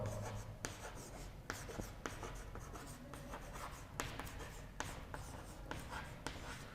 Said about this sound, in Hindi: तो यहाँ पे मैं लिख देता हूं रघुनाथ राव।